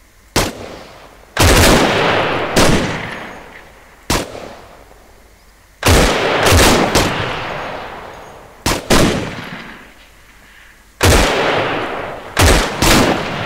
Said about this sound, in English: What we're going to do now is practice deliberate fire. So 1 round every 6 seconds.